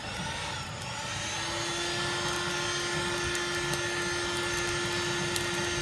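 An EGGNITER electric blower roars steadily with a high whine as it lights charcoal in a Big Green Egg, loud and continuous, no voices.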